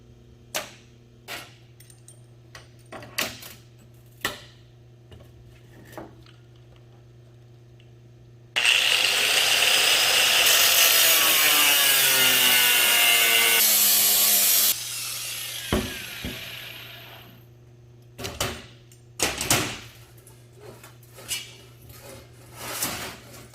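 A power saw cuts wood for the frame of a window storage box for a Jeep ZJ, running loud and steady for about six seconds and then tapering off. Scattered knocks and handling clunks of the wood come before and after the cut.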